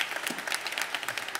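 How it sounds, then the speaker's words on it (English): Soft, scattered clapping from a Methodist church congregation during a Sunday morning worship service welcoming new members, a brief, light patter of hands heard somewhat distant. "y'all can clap too"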